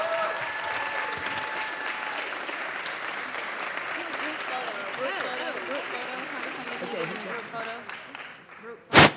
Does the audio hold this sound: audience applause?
yes